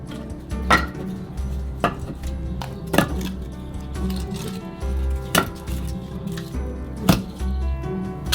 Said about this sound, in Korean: 땔감을 넣어주세요.